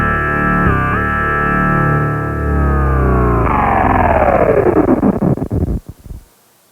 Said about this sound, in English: So let's bring the distortion back in.